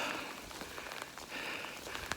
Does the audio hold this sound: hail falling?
yes